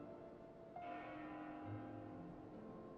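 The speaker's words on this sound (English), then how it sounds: "That bell sound must be coming from somewhere." A bell chimes in the video game Xenoblade Chronicles 2, a faint tone that rings out and hangs over a low ambient drone, with no voices present.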